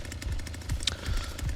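Leatherface's chainsaw in the Texas Chainsaw Massacre video game rattles with a steady, harsh mechanical drone, pulsing in rough repeated bursts over continuous gameplay noise.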